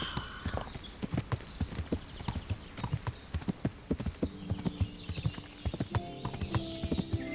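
Horse hooves clip-clopping at a steady walking rhythm in the medieval video game Kingdom Come: Deliverance, loud and close, with a brief snort and some game sounds layered in toward the end.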